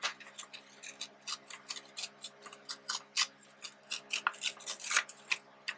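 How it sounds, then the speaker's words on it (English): Paper is torn by hand for a DIY folio travelers journal, a close series of short dry ripping bursts at an uneven pace in a quiet room. "So I'm going to just tear this."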